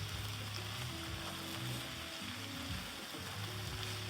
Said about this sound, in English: I'm stir-frying some fresh cabbage, okay?